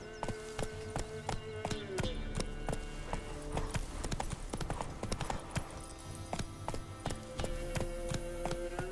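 Horse hooves clip-clopping at a steady gallop in The Witcher 3, a brisk, continuous rhythm of close, distinct hoofbeats over faint ambient sound.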